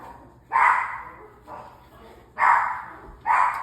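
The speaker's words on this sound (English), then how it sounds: "You know when you feel like your video is getting ruined by the dog?" A dog indoors in a home kitchen barks four times in loud, close, spaced woofs, with quieter room noise between.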